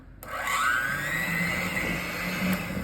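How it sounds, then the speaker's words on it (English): An electric hand mixer runs at low speed, blending cocoa powder into a cake batter, a steady close whirring hum that starts abruptly and holds evenly throughout with no talking. "1/4 cup of cocoa powder into that, and let's get that mixed together at a low speed"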